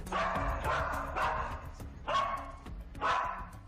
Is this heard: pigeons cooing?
no